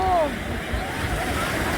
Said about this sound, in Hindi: ये ऐसा समुद्र का पानी है जो कि